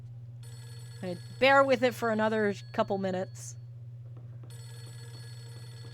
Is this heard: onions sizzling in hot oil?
no